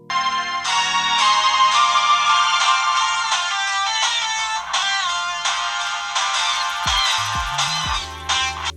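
The small front-facing speaker of an Anbernic RG34XX retro handheld plays a bright, tinny chiptune-style melody at full volume, busy quick notes over a thin bass line, loud and close with no talking.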